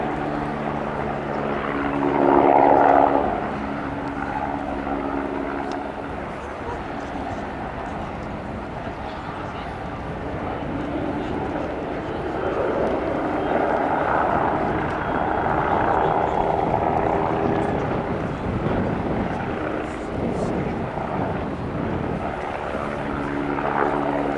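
A Bo 105 helicopter flies an aerobatic display at the Royal International Air Tattoo airshow, its steady engine and rotor drone rumbling at a distance throughout, with a commentator's voice over it at times.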